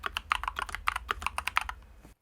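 Fast typing on a mechanical keyboard fitted with Akko switches gives a rapid run of crisp, close clacks at an even rhythm that stops abruptly, with no voices.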